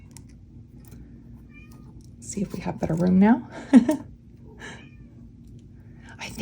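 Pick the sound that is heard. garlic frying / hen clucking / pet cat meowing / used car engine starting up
pet cat meowing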